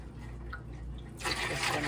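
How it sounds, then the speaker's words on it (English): Water pours into a saline solution over vegetables, a quiet trickle and drip that swells into a louder splashing rush near the end. "we need just a little bit more water"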